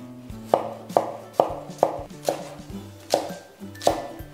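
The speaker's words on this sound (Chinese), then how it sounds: "接着再来切一点姜葱" A knife chopping ginger and scallions on a board for a sea bass dish: about eight sharp, evenly spaced chops, loud and close, over light background music.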